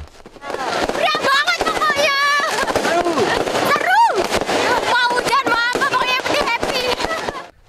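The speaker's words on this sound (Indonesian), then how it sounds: "Kembang api yang meramaikan malam pergantian tahun ini berasal dari warga maupun dari wisatawan." New Year's Eve fireworks over Puputan square in Denpasar, Bali burst continuously with crackling pops and rising whistles, loud and dense, while a crowd cheers and shouts underneath.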